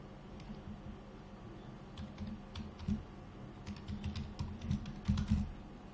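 A password is typed on a computer keyboard, heard as soft, close, irregular key clicks in short bursts, growing busier toward the end over a quiet room hum.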